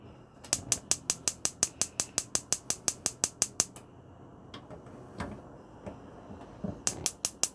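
The gas hob igniter in a 2006 Bailey Pageant Champagne caravan clicks in a fast, even run of about twenty sharp ticks, pauses, gives a few scattered clicks, then starts a new burst.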